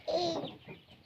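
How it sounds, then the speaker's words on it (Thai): A single short chicken cluck call, close and fairly clear, fading quickly into soft background sounds. "ไล่ลูกไก่เนาะทุกคน"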